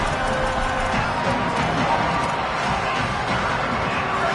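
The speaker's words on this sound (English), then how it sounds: "Guns up, and so is the noise. The crowd electric, trying to help Tech on this third down" Stadium crowd noise from the video game College Football 26 during a Texas Tech third down, a loud, steady roar of cheering that fills the whole stretch without pause.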